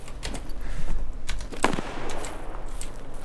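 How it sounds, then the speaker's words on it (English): Mosin bolt-action rifle fire in Escape from Tarkov: a sharp, loud crack about midway through, with fainter earlier reports over a constant outdoor game ambience. "I got shot by Mosin."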